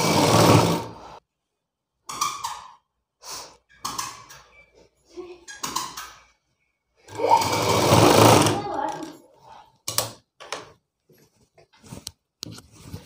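A sewing machine stitching a blouse in a tailor's shop, running in several short bursts of rapid mechanical whirring with pauses between, the longest burst near the middle.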